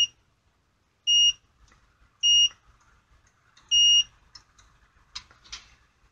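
A network cable tester on 110 punch-down block wiring gives three clear, steady electronic beeps at irregular intervals, each about a third of a second long. Small clicks and handling noises fall between the beeps in an otherwise quiet room.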